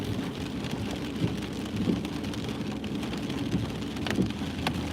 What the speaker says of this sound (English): And now the rain's coming in.